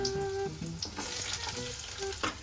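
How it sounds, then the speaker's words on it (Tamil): Garlic frying in oil until golden, a dense continuous sizzle with faint tonal ringing and brief clinks, close and steady with no talk. "நான் பூண்டு வச்சுருக்கேன். அதையும் இந்த ஆயிலே போட்டுக்கலாம்"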